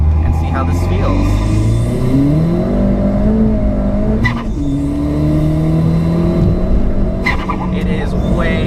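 A Ford Fiesta ST with a KW coilover setup, running on ethanol, accelerates hard up a highway on-ramp, its engine note rising loudly through the gears, with a brief shift pause midway.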